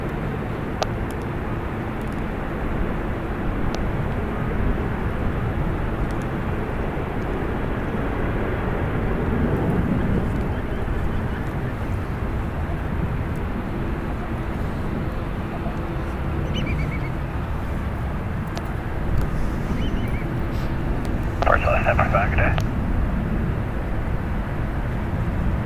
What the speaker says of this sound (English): taking to the skies will be Alaska Airlines flight 1045 going to Portland. It's a Boeing 737-900